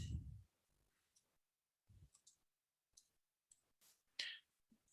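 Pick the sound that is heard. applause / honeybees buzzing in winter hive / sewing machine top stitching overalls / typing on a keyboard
typing on a keyboard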